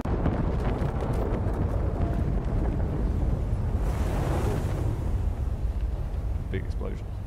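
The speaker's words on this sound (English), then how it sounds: "Big explosion." In the city-survival strategy game Frostpunk 2, a big explosion bursts midway as a broad whooshing blast over a constant rumbling game soundscape, with a few faint tonal effects after it.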